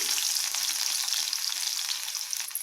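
Chopped garlic and cashews fry in hot oil for paneer fried rice, giving a loud, dense, continuous crackling sizzle that stays close throughout, with no speech.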